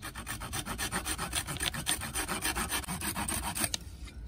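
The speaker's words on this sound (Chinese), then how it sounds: "从竹节边缘切割出两段" A hand saw cutting through a section of bamboo beside a node, a fast steady rhythm of about twenty rasping back-and-forth strokes, close and loud, stopping abruptly near the end.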